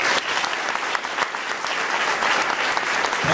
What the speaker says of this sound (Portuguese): Vamos dar uma salva de palmas para o Senhor